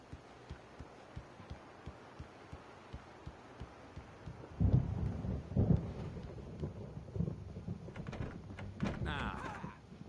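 A storm rolls in during Alan Wake: a low, rumbling thunder swell breaks in midway, following a steady, faint thudding pulse, then fades back to quieter rumbles.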